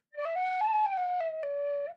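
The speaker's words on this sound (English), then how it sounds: "And my tin whistle." A tin whistle plays a short, clear melodic phrase of a few sustained notes stepping up and back down, bright and close, alone without talk.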